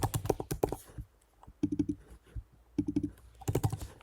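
Keys on a computer keyboard clatter nearby in quick bursts of rapid typing, separated by brief pauses, with no one talking.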